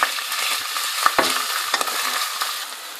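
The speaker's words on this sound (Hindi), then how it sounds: "तेल गर्म हो चुका है, मैं इसमें प्याज डाल देती हूँ।" Chopped onions frying in hot oil for a Chicken Laziz dish, a steady close sizzle with a few scraping stirs and light utensil clinks, no talking.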